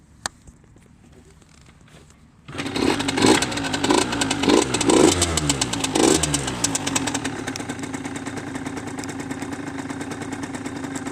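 A 2016 Derbi Senda X-Treme DRD SM 50, a 50cc motorcycle, cold-starts after a few faint clicks, catching abruptly into a loud buzzy two-stroke idle with a few blips of revs, then settling into a steady close rattle.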